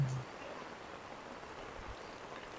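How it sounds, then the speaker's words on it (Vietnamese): Heavy rain pours steadily during a storm on a street in Da Nang, an even, dense hiss of falling water that stays constant throughout with no clear voices. "Mưa tối mặt luôn đó cả nhà"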